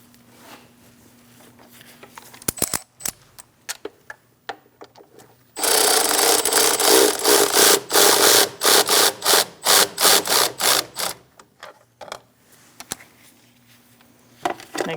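Clamp on a 2000-2006 Mini Cooper power steering reservoir tightened, a few sharp clicks, then a loud burst of rapid rhythmic ratcheting or buzzing strokes that break into separate pulses and fade to occasional clicks.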